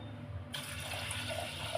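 Water poured into a pot of green gram gravy, a steady continuous splashing flow that starts abruptly and keeps running at an even level, close and alone.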